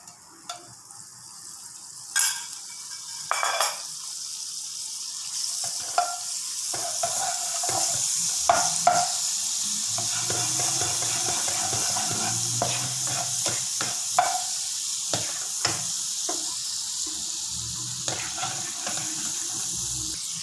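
Butter and garlic sizzle in a pan with repeated sharp clinks and scrapes of stirring, over a steady frying hiss and some running-water wash in the background.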